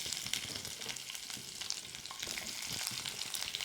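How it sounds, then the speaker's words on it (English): Onion frying in a hot pan, a steady crackling sizzle with scattered sharp spits and pops throughout, close and fairly quiet, no talking. "we're going to just pop this onion in"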